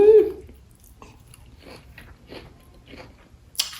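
Crunchy fried plantain (bannan peze) topped with a little Haitian pickle condiment is bitten and chewed up close, giving a few soft, crackly crunches spaced out over several seconds with no talking.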